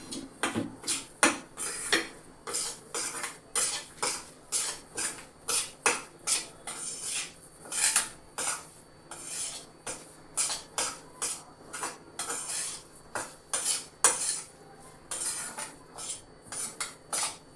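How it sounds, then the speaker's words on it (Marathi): A spoon stirs a dry ground peanut powder mixture in a metal bowl for a Maharashtrian peanut bhurka, with repeated sharp scraping clinks in a steady rhythm, close and alone. "हे चांगलं मिक्स करून घ्या"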